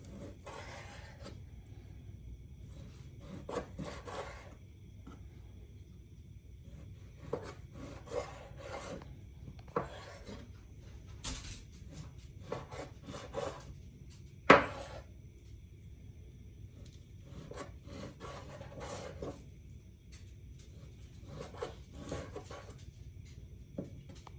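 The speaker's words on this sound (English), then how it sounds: "Start cutting this bacon." Knife slicing through raw bacon on a cutting board in a home kitchen, quiet repeated rasping strokes with occasional sharper knocks of the blade, close and unaccompanied by talk.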